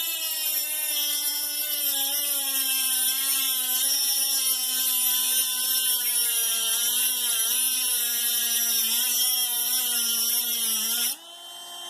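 A 25,000 RPM Dremel rotary tool grinds hot brass with a steady high whine whose pitch wavers as pressure shifts. It runs loud and continuous, close by, then drops abruptly near the end.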